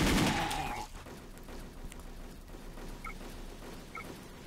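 Gunfire in the online shooter Wolfteam: a burst of shots right at the start, then scattered softer game effects and faint distant shots through the rest.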